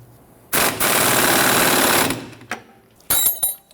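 Power tool tightens the rear trailing arm suspension bolts on a 1992-1996 Toyota Camry. It makes a loud, steady rattling burst of about a second and a half, followed by a couple of shorter bursts.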